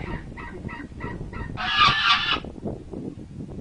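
A few short honks from geese, then a loud, dense burst of overlapping honking before it tapers off.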